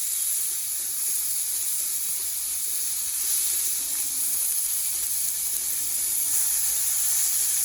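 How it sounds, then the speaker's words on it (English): A thick steak sears in a hot pan, giving off a steady, close sizzling hiss that runs unbroken throughout with no talking. "you'd want to pick it up from the side and sear this side down"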